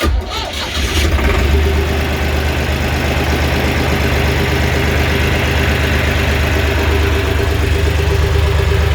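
An old boat engine chugging steadily at idle, loud and close, with a low throbbing rumble that starts up and keeps running throughout.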